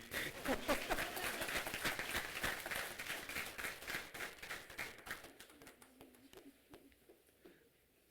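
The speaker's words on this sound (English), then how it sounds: "It's your graduation. Keep clapping." At an executive MBA graduation recognition ceremony in Mumbai, the audience claps with sharp, close individual hand strikes that form a busy rhythm. The clapping thins out and fades over the final few seconds.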